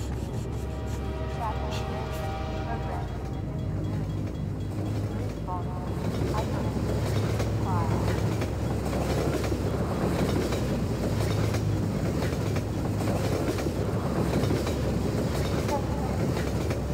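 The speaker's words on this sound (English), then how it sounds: "I smell a train, too." A train rumbles past in Half-Life 2: Episode Two, a loud continuous roll of wheels and carriages with rhythmic clacking and metallic screeching that fills the whole stretch.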